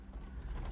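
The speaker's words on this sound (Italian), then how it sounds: "Frusta i cavalli, Tizzone!" Horses galloping as they pull wagons in a chase, a steady, close clip-clop of hooves running continuously under rumbling low noise, with no talk.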